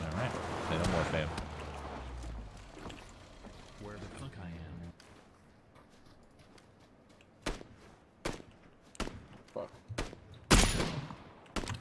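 Gunfire in PUBG, a loud stretch of rapid shots followed by scattered single cracks and short bursts, with players talking throughout.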